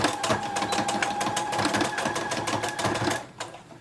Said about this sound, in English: And then I'm gonna do this basting stitch here.